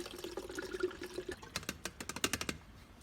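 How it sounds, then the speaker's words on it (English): Liquid poured into an empty jug, with a short gurgling flow followed by a quick run of sharp splashing and glugging bursts, close and fairly quiet. "you pour it in your empty jug"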